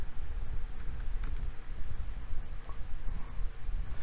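A computer keyboard typing a folder name on a Windows 10 PC: quiet, irregular key clicks in short bursts against a soft background hiss.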